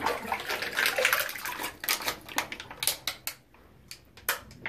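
Water sloshes and gurgles in a sink being unclogged with a plastic water bottle, with a dense splashy stretch giving way to a run of sharp, irregular glugs and pops, close and fairly loud.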